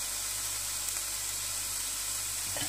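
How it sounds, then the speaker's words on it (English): Sliced onions fry in a tablespoon of freshly added oil for egg bhurji, making a steady, even sizzle and hiss close by, with no voices. "I'm just adding 1 tablespoon of oil. This will help these onions to fry and turn into caramelization"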